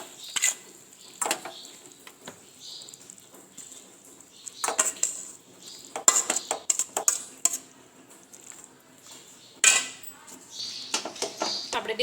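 Sweet coconut mixture being spread into an oiled dish, heard as scattered scrapes and clinks of a metal spoon against the dish, coming in irregular bursts with quiet gaps between them.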